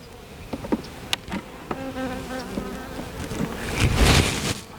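Honey bees buzz around a hive frame being handled, a close, scattered hum with intermittent individual wingbeat tones, moderately quiet, with some handling rustle near the end.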